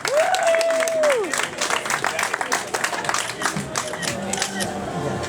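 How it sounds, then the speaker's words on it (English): An audience applauds a speaker being introduced at a send-off event, steady clapping from a crowd with a brief whistle or cheer near the start and a few faint voices mixed in. "Would you all please give your time and attention and applause to Miss Danielle Green"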